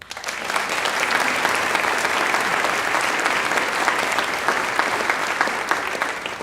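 An audience at a school coffeehouse choral awards evening applauds the instrumentalists, giving steady, sustained clapping from many hands throughout, with no talk over it.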